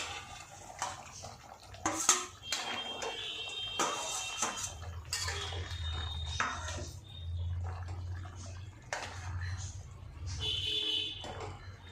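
Hilsa fish heads go into a pot of boiled taro curry with repeated clinks and knocks of utensils against the pot, some wet bubbling and a low hum in between, close and uneven.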